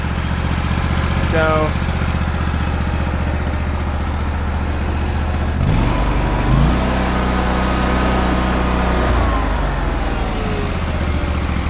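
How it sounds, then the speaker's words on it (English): A Kohler engine on an Exmark Lazer Z mower idles steadily and loudly up close, with a low, even rumble. Partway through, the engine note shifts briefly before settling back to a smooth idle. "But you can't beat the idle of a Kohler."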